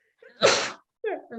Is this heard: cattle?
no